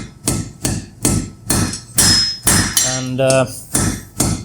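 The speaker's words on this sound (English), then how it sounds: "the first I'm gonna do is to forge the shaft of the Mjölnir" A hammer strikes hot metal while forging the shaft of a small Mjolnir pendant, about ten sharp, close, ringing blows in an even rhythm, with a brief sizzling hiss partway through.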